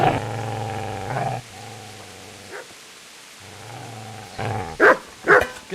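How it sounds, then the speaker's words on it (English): A dog in the medieval game Kingdom Come: Deliverance growls in a long low rumble, pauses, growls again, then breaks into two or three sharp loud barks near the end. "Get away, you mutt!"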